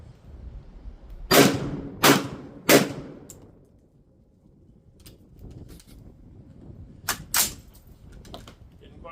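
A gun fires DIY heat-shrink anti-drone ammunition at a target. Three sharp, loud shots come in quick succession, then there is a pause with quiet talk, and two more shots follow close together.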